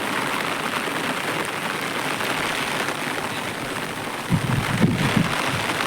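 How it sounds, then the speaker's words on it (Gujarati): Steady rain pours down on farm fields under a broad wind-like roar, with a few heavier low gusts or rumbles near the end; continuous and close, in the evening. "જો પવન છે અને વરસાદ છે હરોહર"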